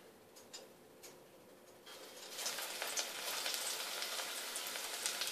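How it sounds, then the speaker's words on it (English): Okra hits hot oil for deep frying. A few soft ticks come first, then a bright, dense sizzle swells up and stays steady and fairly close. "Now I'm going to fry the okras."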